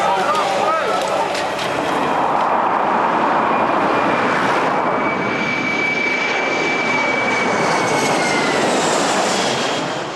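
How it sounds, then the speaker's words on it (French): An airplane landing at Manchester Airport roars loudly and continuously at close range, a steady broadband jet rumble with a faint whine, sustained throughout. "Ici, un avion atterrit toutes les 5 minutes."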